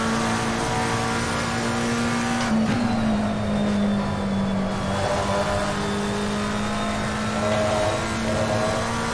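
A race car in Assetto Corsa Competizione at Silverstone, its engine holding a loud, steady drone at near-constant revs with a brief pitch dip and recovery early on, continuous throughout without talk.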